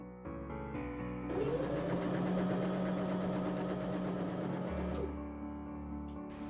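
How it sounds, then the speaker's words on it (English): A sewing machine stitches a velvet robe sleeve, its motor building into a steady, close whirring run of rapid stitches for several seconds before slowing and stopping. "I started sewing from the center and out to avoid it stretching too much."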